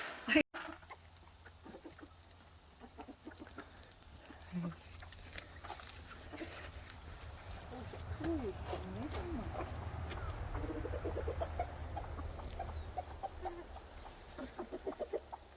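Soft clucking from several hens mutters along steadily at a moderate distance in thick fog, with faint background noise throughout and a brief louder bump near the start.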